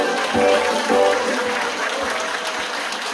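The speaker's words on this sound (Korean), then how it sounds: "큰 박수 부탁드리겠습니다" An outdoor crowd at a community residents' assembly claps steadily, a moderate wash of applause with a few louder thumps, continuing evenly for a few seconds.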